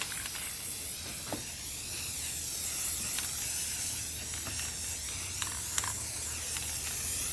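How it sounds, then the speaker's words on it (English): An aerosol can sprays a varnish sealant coat onto an acrylic-poured vase outdoors, a steady close hiss with a few brief pulses as the nozzle is pressed. "You don't want to overspray it, because then you will definitely have a lot of drips."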